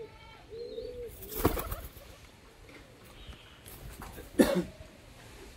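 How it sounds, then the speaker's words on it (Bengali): Pigeons and young birds in a loft, with soft low coos and a few chirps, plus two sharp louder bursts that sound like coughs or wing noise. "এই যে ওখানে সব পায়রার বাচ্চাগুলো রয়েছে, ছাড়া রয়েছে, দেখতে পাচ্ছেন।"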